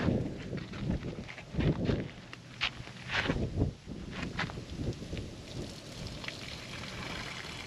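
Water from a cooking pot is poured out onto the ground outdoors while preparing a spicy seafood boil, a splashing, pattering stream in uneven bursts that trails off toward the end.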